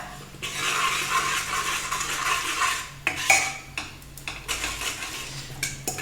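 A spoon scrapes and clinks against a pot as cumin and cardamom powder are stirred into a thickening green gram milk payasam, with close metallic stirring sounds in uneven strokes.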